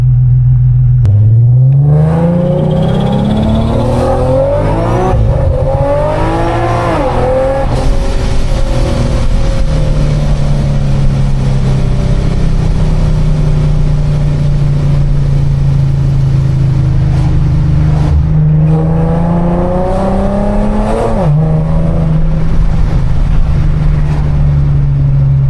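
A 700-horsepower Infiniti G37 accelerates hard on the road, its engine note climbing through several gears with sharp shift drops, loud and close throughout.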